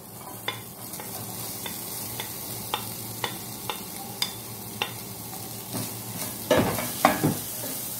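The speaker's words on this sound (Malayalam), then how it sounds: "ഇനി ഇതിലേക്ക് നേരത്തെ തയ്യാറാക്കി വെച്ച സബോളയും പച്ചമുളകും ഇഞ്ചിയും വേപ്പിലേക്ക് ഇട്ട് കൊടുക്കാം." Onion, green chilies, ginger and curry leaves fry in olive oil with a steady low sizzle, a series of light regular taps, then louder scraping stirs near the end, close by with no talk.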